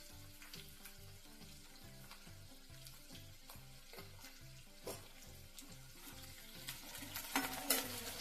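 Cumin seeds frying in a pan, a faint, even sizzle with rhythmic stirring that grows busier and a little louder toward the end.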